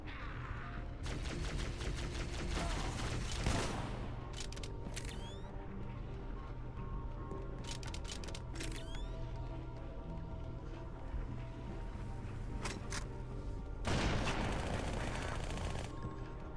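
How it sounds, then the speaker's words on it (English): Dual SMGs firing in Halo, rapid continuous automatic gunfire in sustained bursts with brief sharp pauses, loud and close, running the whole stretch with no voices. "Even in weird not Halo, the dual SMGs are still somehow unreasonably powerful."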